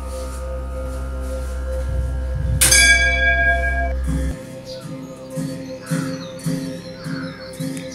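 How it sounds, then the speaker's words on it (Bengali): A bell mounted atop a large monastery prayer wheel in Pelling strikes once, loud and ringing with a long shimmering decay, over steady low droning music; faint bird chirps and soft percussion continue afterward. "ঘন্টাও বাজবে"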